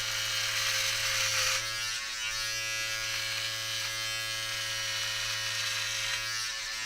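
A battery-powered Philips Norelco Multigroomer all-in-one trimmer with a 1 mm guard runs with a steady, close electric buzz. A brief dip partway through, maybe as it touches hair, then the buzz continues evenly.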